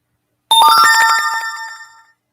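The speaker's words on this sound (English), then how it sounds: "This phone sounds like a casino game." A phone plays a bright, chiming electronic ringtone that sounds like a casino game: a quick cascade of bell-like tones that starts abruptly, rings close and loud, then fades out after about a second and a half.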